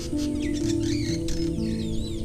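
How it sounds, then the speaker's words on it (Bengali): Birds calling in a forest on an island char of Patuakhali, with a few close, clear whistled and chirping calls in quick succession over a low droning hum. "এগুলো জেনুইন পাখির ডাক"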